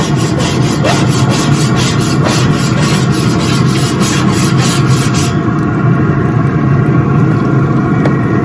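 Grill Rescue scraper scrubbing a grill grate: loud, continuous close rough scraping with a fast back-and-forth rhythm that smooths into steady rubbing partway through.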